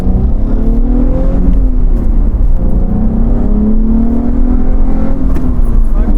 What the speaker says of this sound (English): Oh, it likes to rev. That's the lightweight flywheel